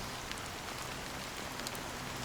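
Steady rainfall in the video game Honkai: Star Rail, a constant hiss of drops hitting surfaces with a few sharper splashes, even and unbroken, with no voices.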